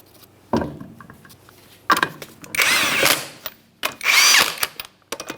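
Impact wrench spinning down the five 19mm lug nuts on a 2012-2015 Honda Civic front wheel, several loud separate bursts of whirring with short pauses between them.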